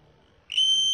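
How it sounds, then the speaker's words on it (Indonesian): A steady electronic buzzer tone from a rain-detector sensor switches on halfway through after quiet, when its probe is touched, then holds loud and unbroken to the end. "buzzer akan berbunyi"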